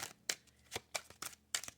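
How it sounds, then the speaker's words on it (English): A deck of tarot cards is shuffled in quick, crisp riffles, roughly six short papery bursts spaced under two seconds, close and fairly quiet with no voices. "I have shuffled the cards before we have gotten started"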